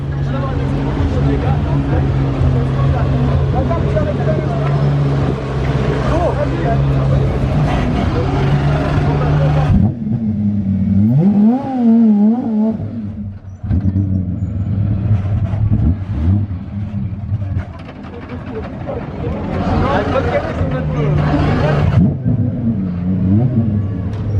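A Ford GT Vulcan race car idles and revs loudly outside a Monaco hotel during the Gumball 3000, its deep engine note rising and falling under nearby talking, with a quieter stretch midway before the revving returns.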